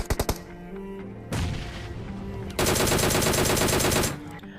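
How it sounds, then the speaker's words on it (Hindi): Rapid automatic gunfire from a PUBG Mobile gunfight comes in loud bursts, with a few quick single shots and then a long sustained volley before it cuts off. "जैसे ही ओपन में आया तभी मेरे को ये गन फाइट के साउंड आए"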